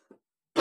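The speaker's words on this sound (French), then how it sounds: "Je tousse encore un peu, comme vous l'entendez." A single harsh cough breaks out sharply and loudly at the end, after a faint, brief throat noise and a stretch of silence.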